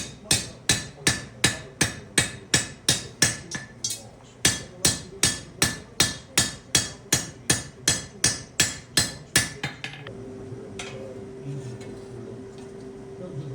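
Steady rhythmic hammer blows ring on metal as a ball punch is struck while hand-forging a bottle opener tab, about twenty sharp strikes in a row, then they stop and a low hum continues.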